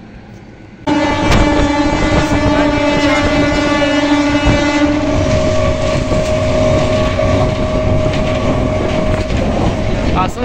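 Train at Asansol railway station in India, loud and close: a sustained horn tone with bright harmonics that holds for several seconds over steady rumble and clatter of rolling stock, with faint station chatter underneath.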